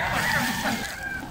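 A short burst of chicken clucking and calls, fairly loud and close, with a bit of background noise.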